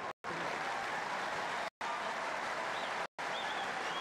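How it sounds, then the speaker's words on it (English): A huge crowd at a Novak versus Tomic tennis match applauds the players as they are introduced. The clapping is dense, loud and continuous, with brief dropouts that cut the sound off completely. "What a great round of applause from this huge crowd for both these players as they were introduced."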